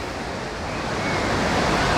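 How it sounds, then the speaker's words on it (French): A constant rushing roar of falling water, steady and fairly loud, from the Marmore waterfalls in Italy heard from nearby. "Regardez ça, les cascades d'El Marmor, le ciel menaçant en plus."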